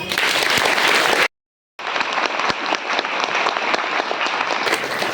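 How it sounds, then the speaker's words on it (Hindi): A church congregation breaks into applause during a sermon, dense loud clapping interrupted by a brief half-second gap of silence before resuming and carrying on steadily. "तालियां।"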